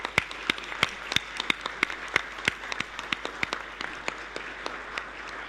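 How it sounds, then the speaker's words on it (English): An audience at an International Women's Day event applauds steadily, with sharp claps landing in a fairly regular rhythm over a continuous wash of clapping. "Let's give a big round of applause to the 40 ambassadors for a day"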